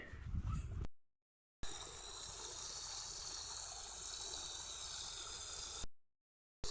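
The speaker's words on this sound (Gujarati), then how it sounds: "બોરમાંથી પાણી હવે ડોળું આવેલું છે" Muddy water gushes from a borewell in a village field, a steady rushing flow at close range that cuts in and out in short gaps.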